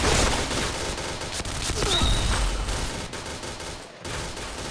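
Rapid bursts of automatic gunfire from the first-person shooter Point Blank, dense and loud throughout, with a soft voice underneath.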